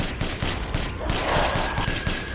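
Rapid gunfire in the video game Resident Evil Village, a fast string of muffled shots with mechanical clicks, moderately loud over a dense game soundscape.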